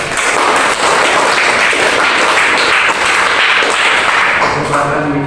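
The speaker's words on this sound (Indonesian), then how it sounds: "Oke, kasih tepuk tangan buat" A class of students applauds together in a lecture setting, dense sustained clapping at a steady loud level for several seconds, easing slightly toward the end.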